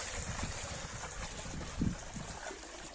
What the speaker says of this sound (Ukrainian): дуже холодний вітер самого ранку